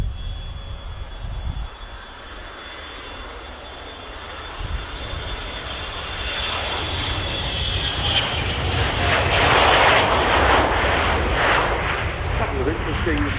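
A US Air Force C-37A jet at an air show swells from a distant rumble into a loud, close roar as it passes, with a commentator talking underneath.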